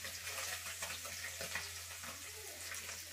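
Puti fish frying in a pan give a steady hiss and sizzle with crackling bursts throughout, at moderate loudness, with no speech.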